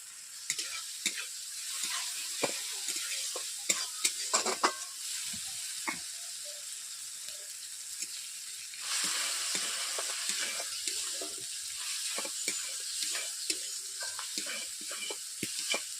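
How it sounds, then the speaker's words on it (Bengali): Ginger and garlic paste fries in oil after onions and tomatoes for a pangas fish curry, a soft steady sizzle with frequent small scrapes and taps from stirring, close by and without talk. "দেখতেই পাচ্ছেন আদা রসুনের বাটা ভাজা হয়ে গেছে"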